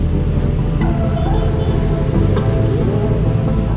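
A DC Avanti, the Indian sports car, holds a steady, loud engine rumble for the whole stretch, a continuous low drone with a couple of faint sharp clicks on top and no voices.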